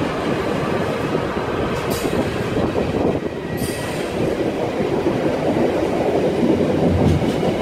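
Freightliner class 66 freight train 66561, running from Leeds to Southampton, rolls past with a loud continuous rumble of wagons, rhythmic wheel clatter and occasional high squeals, with no talking.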